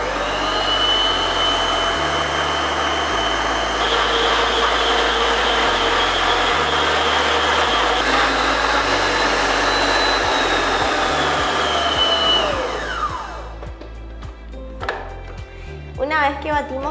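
An electric hand mixer whirs steadily and loudly while beating vanilla cookie dough with an added egg for Christmas cookies, its motor pitch shifting slightly, then cutting off near the end with a few faint clinks.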